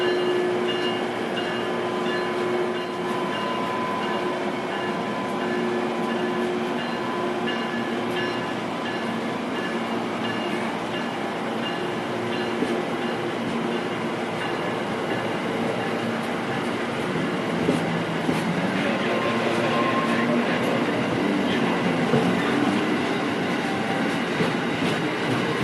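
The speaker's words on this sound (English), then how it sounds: "You like trains, huh?" A diesel-hauled CSX freight train rolls past continuously, a steady rumble of wagons with wheel clatter and occasional faint squeal, close and sustained throughout with no talk.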